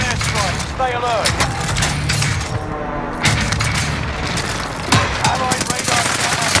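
An enemy precision airstrike in Call of Duty Warzone: a loud, dense barrage of rapid explosive impacts and crackling gunfire-like bursts, rolling on without pause, with a voice coming through now and then.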